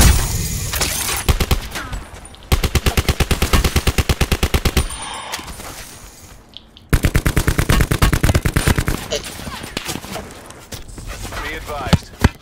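Automatic gunfire from Call of Duty Blackout rattles out in several long rapid bursts, loud and close, with short pauses between strings of shots.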